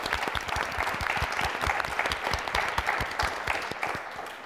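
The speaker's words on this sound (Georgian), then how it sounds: "ორივე გუნდს მხურვალე აპლოდისმენტები" Warm applause from a school quiz audience, a steady patter of many hands clapping close by for about four seconds with no talk over it.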